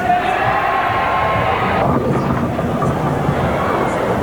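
A crowd at a televised professional bowling match roars and cheers loudly and steadily, a dense, sustained wall of applause and voices that fills the whole moment without a break.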